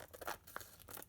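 Scissors trim a faux silk tissue paper card in a few short crisp snips and rustles, close and quiet, lasting about a second.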